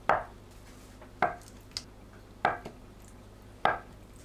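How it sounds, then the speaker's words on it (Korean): A knife cuts tofu into bite-size pieces on a board for a Korean cabbage dish, giving four crisp, evenly spaced chops about a second apart, close and clear with no talking. "두부를 한입 크기로 썰어줍니다"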